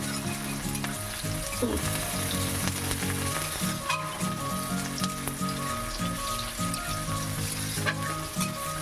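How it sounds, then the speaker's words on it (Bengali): Onions fry in mustard oil with cumin and bay leaf, producing a steady close sizzle broken by clinks and scrapes of stirring. A low, faint hum runs underneath. "এবার পেঁয়াজটাকে একটু আমি ভেজে নেবো।"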